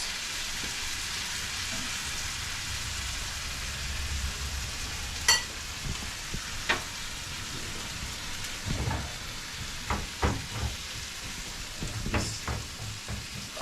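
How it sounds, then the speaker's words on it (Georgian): Fresh crushed tomatoes hit a hot pan of sizzling mushroom stew, giving a steady hiss of frying with scattered crackles and sharp pops, close and alone with no voices. "ეხლა უნდა ჩავამატოთ ცოცხალი პომიდორი."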